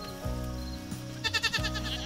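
Goats bleat close by in several calls with a harmonic, voiced quality, one starting near the beginning and another toward the end, with faint rustling in between and no talk.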